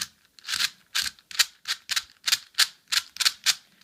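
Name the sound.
MoZhi pyramorphinx speed cube being turned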